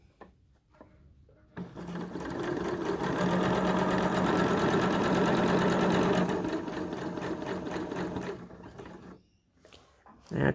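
An overlocker serger stitches a T-shirt edge with a fast, even mechanical chatter that starts abruptly, runs steadily for several seconds close by, then stops, with small handling clicks before and after.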